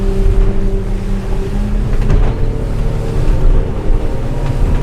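Merry Fisher 895 Serie 2 motorboat on open water, accelerating under throttle on a bumpy day: a loud, deep engine drone with rising tones, mixed with rushing wind buffeting the microphone, continuous throughout.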